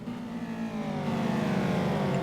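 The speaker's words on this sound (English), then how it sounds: "just listen to the Caterhams roar" Caterham R300 race cars in the Simraceway racing game roar past, engines droning and climbing in pitch as they rev, a loud, continuous, rising note with no talk.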